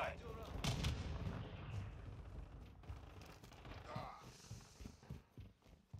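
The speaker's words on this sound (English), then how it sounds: "I threw a flashbang" A flashbang grenade goes off in a tactical shooter, part of a dense, loud burst of gunfire and bangs with busy game noise and overlapping voices.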